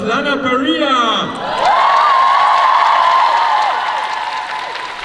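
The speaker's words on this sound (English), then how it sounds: "Some applause, Lana Parrilla!" A comic convention audience in Belgium claps and cheers for a guest on stage; a voice calls out at first, then a swelling roar of applause and whoops that stays loud and gradually fades.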